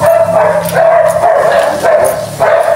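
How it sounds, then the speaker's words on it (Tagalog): Dogs bark and yip repeatedly, a few sharp bursts over constant background noise, with a high whine running underneath. "Hindi yung mga aso dito."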